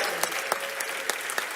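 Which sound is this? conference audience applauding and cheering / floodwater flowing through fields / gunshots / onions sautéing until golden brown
conference audience applauding and cheering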